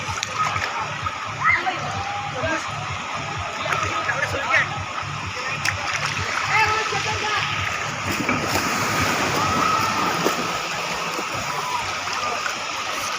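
Water splashes and churns steadily in a swimming pool in Pune fed by a waterfall, a continuous busy wash of spray with voices and shouts mixed in.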